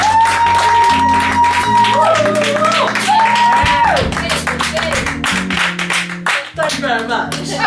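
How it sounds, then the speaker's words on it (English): An audience at a poetry performance and book signing claps and applauds warmly for a poet, with loud, sustained clapping from a crowd over steady melodic tones, and the applause thins out toward the end. "can I give a warm welcome and a little hand clap for Carla?"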